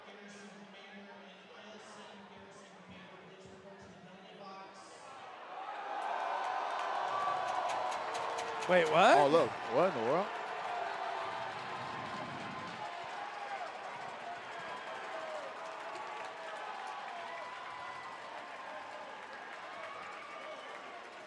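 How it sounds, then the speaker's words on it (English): A hockey crowd at an Army versus Air Force game in Fairbanks, Alaska surges into a loud, sustained roar of cheering and shouting that swells and lingers in the arena, with people talking nearby throughout. "Crowd erupted"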